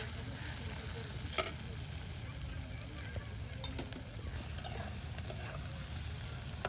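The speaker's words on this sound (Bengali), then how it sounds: "ভাজা করে নেওয়া হলো পেঁয়াজ রসুন এবং কি কাঁচামরিচ" Onion, garlic and green chili frying in a pan give a steady, moderately quiet sizzle with occasional soft clicks and stirring scrapes, with no voices.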